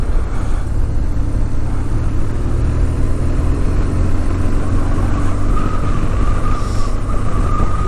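A motorcycle rides fast along sweeping mountain roads, a continuous loud engine drone mixed with wind rush, steady with no pauses.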